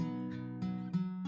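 Fingerstyle guitar MIDI sample with string selectors active, a sequence of plucked notes ringing over each other, sustained and clean, with new plucks entering every third of a second or so.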